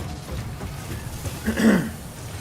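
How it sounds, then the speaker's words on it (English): A single short throat-clearing cough, close and fairly loud, alone against faint background hum. "Excuse me for coughing."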